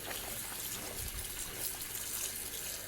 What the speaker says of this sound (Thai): ล้างน้ำเย็นดีๆแล้วก็ปั่น